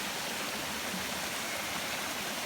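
A waterfall pours in a steady, even rush of water, a constant broadband roar with no voices or breaks.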